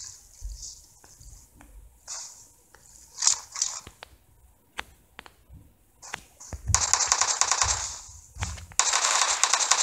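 Gunfire in the mobile battle royale game PUBG Mobile, a run of quick sharp shots, sparse at first and then dense bursts of rapid automatic fire, with no talk over it.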